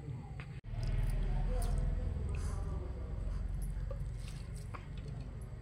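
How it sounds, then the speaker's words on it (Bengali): Flattened rice (chira) being rinsed in a bowl of water, a soft, steady wet squishing and swishing with faint drips, close and continuous after a brief bump at the start. "দেখো আমি এক বাটি চিঁড়ে নিয়েছি, এটা ভালো করে দুবার তিনবার জল পাল্টে আমি ধুয়ে নেব।"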